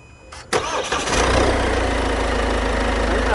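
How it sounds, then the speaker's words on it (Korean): A diesel car engine cranks briefly and catches, then settles into a steady, close, rumbling idle. "시동 한 번"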